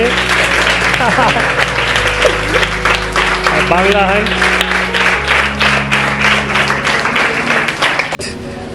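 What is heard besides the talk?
children applauding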